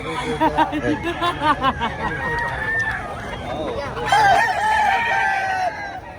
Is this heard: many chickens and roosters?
yes